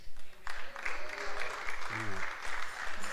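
Church congregation clapping along during worship, a steady rhythmic applause with voices and singing mixed in throughout.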